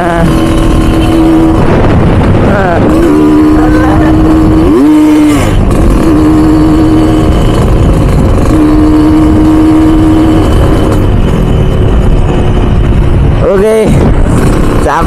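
A Kawasaki KLX150 motorcycle runs loud and close at half throttle during street riding, its engine droning and swelling in pitch with other traffic noise and a voice talking over it.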